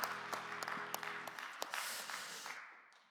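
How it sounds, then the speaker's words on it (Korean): A church congregation claps at a Sunday youth worship service, a fairly quiet patter of scattered hands over a fading sustained tone, thinning out and dying away toward the end. "우리 박수로 서로의 신앙과 삶을 응원하고 축복합시다"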